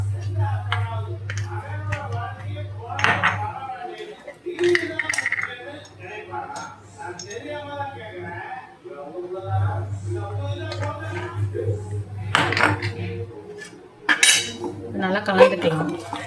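A spoon scrapes and clinks around a metal pot while temple-style pongal with ghee and ground pepper and cumin is mixed, in repeated irregular strokes close by, with a steady low hum underneath and brief pauses.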